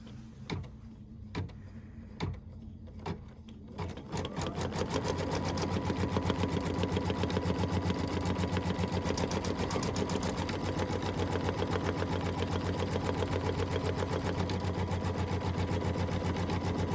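An embroidery machine stitches a hooped Christmas design. A few sharp clicks give way to a fast, steady, even mechanical patter that runs without a break.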